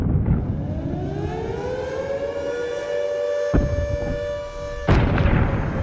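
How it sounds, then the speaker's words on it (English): A wartime civil defense siren wails in a long, rising and sustained tone. Two sharp booms from explosions cut through it, and the whole scene is loud and dramatic, with no voices. "In that teaser trailer for before, we hear nothing but intense explosions and war sirens."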